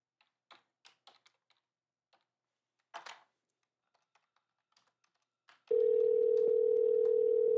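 Scattered soft taps and button presses on a phone, then a loud steady dial tone starting near the end and holding, close and clear with no talking.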